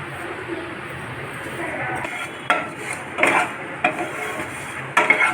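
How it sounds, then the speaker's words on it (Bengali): Whole fennel, cumin and coriander seeds dry-roasting in a pan, with a spoon or spatula scraping and clinking against the metal in irregular stirring strokes, close and moderately loud over a faint steady background hiss. "এখন এই মৌরি, গোটা জিরা আর ধনিয়াগুলোকে ভেজে নিব"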